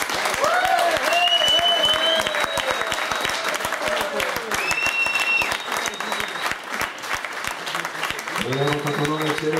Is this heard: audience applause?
yes